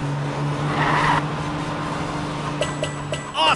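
The Cat-Car from the PJ Masks: Hero Academy game hums along with a steady engine drone and a brief tire skid, with chiming game effects toward the end.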